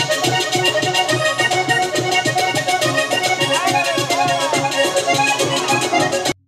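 A merengue rhythm played on a caja vallenata drum: a fast, even train of sharp, loud hand strikes repeating steadily for several seconds before stopping abruptly.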